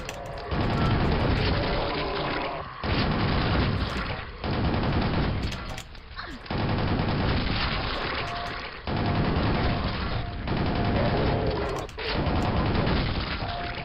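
Rocket launcher fire and explosions from Quake in a Brutalist Jam 3 mod level, with loud repeated booms and blasts packed densely across the stretch, separated by brief dips.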